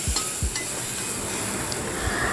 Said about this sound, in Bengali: এবারে খানিক্ষণ ভাজা হওয়ার পরে আর এর মধ্যে আমি দিয়ে দিলাম জল